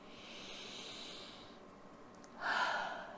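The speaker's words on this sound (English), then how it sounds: "Big deep breath" One deep breath taken by a soft-spoken meditation guide, a slow faint inhale followed by a louder airy exhale, close and alone.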